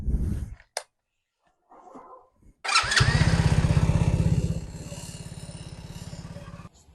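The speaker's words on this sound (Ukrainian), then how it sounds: "Щоб був теплий двигун, потрібно прогріти мотоцикл." A Musstang Retro Classic motorcycle engine sputters and starts, then settles into a loud, throbbing warm-up idle that steadies and softens slightly as it runs up close.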